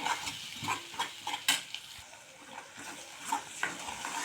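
A pea mixture with green chillies is sautéed in a pan, with intermittent spatula scrapes and stirring clatter over a faint sizzle, close by and moderately quiet, with no talking.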